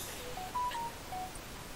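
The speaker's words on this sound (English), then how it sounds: "My phone's going off." A phone's short electronic tones, a few brief beeps of differing pitch in quick succession, fairly faint against a quiet background.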